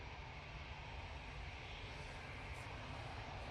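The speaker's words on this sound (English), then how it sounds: "Easyjet now coming on." An easyJet airliner rumbles at Manchester Airport, a faint, steady, distant broadband roar of jet engines that holds evenly with no nearby voices.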